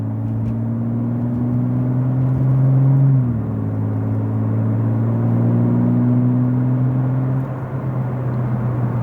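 BMW G80 M3 with a new exhaust in fully open mode, a deep steady droning engine tone that dips briefly as revs shift, then holds a smooth low hum while cruising, with no pops or burbles.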